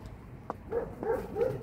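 A dog barks a few times during ball play at home, three short yippy barks close by, fairly clear over a quiet background.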